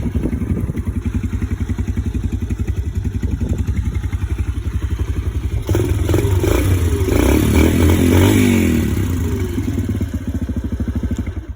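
A Yamaha TT-R125 motorcycle idles with a steady rapid putter, then the electric starter whirs and clatters midway as the engine revs louder before settling back to a close, even idle.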